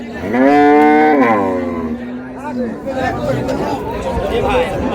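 A loud, drawn-out cow moo opens, followed by a lower bellow from a dairy cow and calf amid a busy crowd of people chattering nearby at a livestock market.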